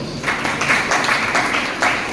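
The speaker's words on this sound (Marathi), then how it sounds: "एकदा कावळ्यासाठी जोरदार टाळ्या वाजवा" An audience claps at a Guru Purnima music concert, a steady patter of hand claps from a crowd lasting a couple of seconds.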